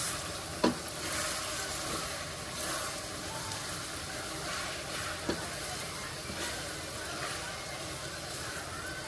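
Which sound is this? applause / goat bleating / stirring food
stirring food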